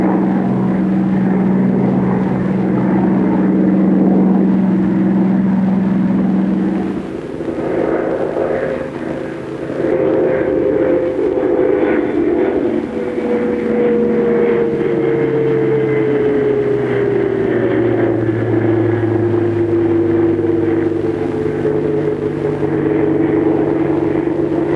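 A P-39 fighter plane comes in to land, its loud, continuous propeller engine drone steady at first, then a long gliding tone that slowly falls in pitch as the aircraft throttles back and descends, with no talking.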